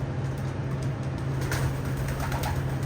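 Racing pigeons coo in a shed converted into a breeding loft, low soft continuous cooing close by with faint rustling and flutters in the background.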